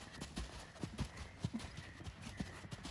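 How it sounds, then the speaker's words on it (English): A 17-hand Clydesdale cross warmblood horse canters in a training session, its hooves striking the ground in a steady three-beat rhythm of dull thuds, fairly faint and close, with no talk. "he has a very big, impressive canter"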